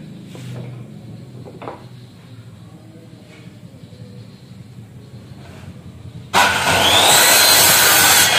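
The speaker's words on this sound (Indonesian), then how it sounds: "Ya, sudah kita potong memakai mesin rakitan saya, Mitresau ya." Homemade miter saw built from a circular saw starts up and cuts, a sudden loud, steady high whine with a rising tone after a quieter stretch of low background noise.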